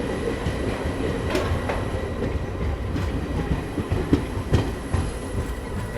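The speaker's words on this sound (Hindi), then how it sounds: "यहाँ पे अपनी ट्रेन पहुँच रही है धरनगांव रेलवे स्टेशन" The Bhusawal–Surat Express rolls into the small Dharangaon railway station, wheels clattering over rail joints with a dense, close rumble and occasional sharp clacks, no voices.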